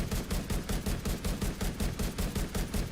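A SIG rifle fires in full-auto bursts in The Division 2, a steady, rapid, loud stream of shots with an even rhythm and no pauses, and no talk over it.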